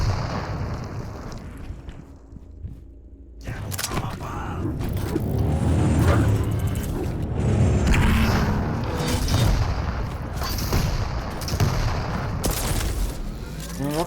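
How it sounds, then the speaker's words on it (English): Rocket launcher blasts in a Quake duel match, heavy booming explosions landing in quick succession over a dense, continuous rumble of game action, loud and close throughout after a quieter opening. "The rockets don't really find its mark there."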